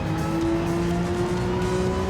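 Porsche Gr.3 race car in Gran Turismo 7 at Grand Valley, engine holding a steady, near drone at high revs as it circles the track, with a faint tire squeal.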